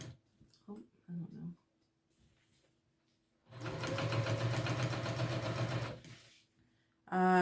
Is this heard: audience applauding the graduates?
no